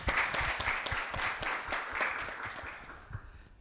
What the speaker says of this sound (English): Applause for him also, please.